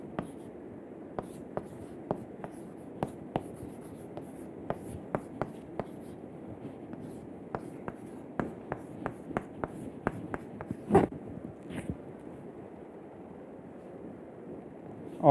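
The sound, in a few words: handwriting during a lecture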